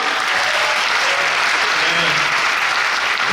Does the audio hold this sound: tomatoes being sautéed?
no